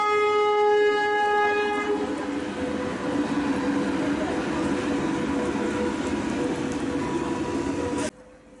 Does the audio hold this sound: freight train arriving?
yes